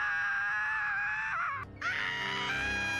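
A drawn-out, high wailing scream from a One Piece anime episode, sustained and loud, breaking off briefly before resuming just as strongly.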